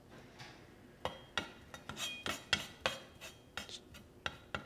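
Knife cutting through large raw prawns on a board, a string of sharp clicky taps and scraping slices at irregular intervals, close and fairly quiet, no talking.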